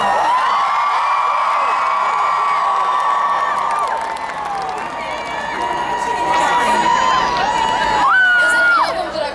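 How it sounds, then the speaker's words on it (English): A London summer concert crowd cheering loudly, a sustained roar of screaming and whooping voices filling the space, swelling near the end with some shouted singing along. "There is no summer crowd like a London summer crowd."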